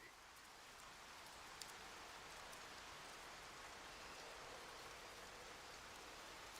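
Soft continuous rain falls in the video game Disney Dreamlight Valley, a faint steady hiss of drops with a few light ticks, even and uninterrupted without talk.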